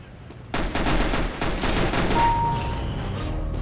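Sustained burst of gunfire in the shooter game CS:GO, loud dense shots starting abruptly after a quiet opening and continuing steadily to the end, with game sound effects mixed in.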